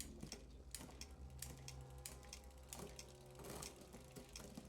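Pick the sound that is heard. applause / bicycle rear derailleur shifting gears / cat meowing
bicycle rear derailleur shifting gears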